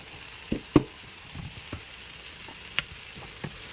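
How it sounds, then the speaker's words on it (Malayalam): Chicken curry with potatoes and salt is stirred in a pan, a faint sizzle beneath a few sharp scrapes and clinks of the spoon against the pan, with no voices. "ഇനി അതൊന്ന് ഇളക്കി മിക്സ് ചെയ്യാം."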